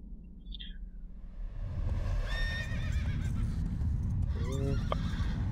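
A horse whinnies in the video game Shadow of the Colossus: one high, wavering neigh rings out near the middle, with a shorter call near the end, all over steady low wind and ambient rumble.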